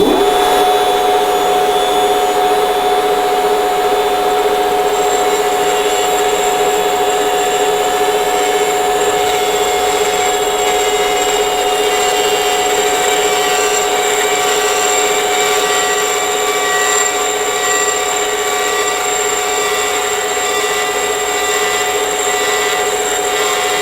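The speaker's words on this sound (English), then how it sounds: "Now I'm just going to use this little Dremel grinder thing." A small Dremel grinder cuts and polishes the valves of a Ferguson TEA20 tractor engine, a loud, continuous high-pitched motor whine that holds steady and close throughout, with no voices over it.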